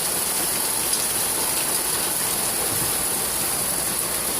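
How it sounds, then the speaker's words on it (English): Hard rain falling outdoors, a dense steady broadband hiss with constant loudness and fine crackling texture throughout, no voices. "Seriously, like, it's raining hard."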